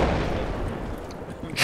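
Mortar rounds firing from a distant base in the Project Reality military game, a dense, continuous rumble of low booms rolling through the whole stretch with a sharper burst at the very end.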